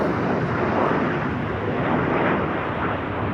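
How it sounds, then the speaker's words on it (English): Three jet aircraft fly over the Trooping the Colour celebration for the king's birthday, a loud steady roar that fills the whole stretch without fading, with no talking over it. "Here comes some of the faster aircraft, jets."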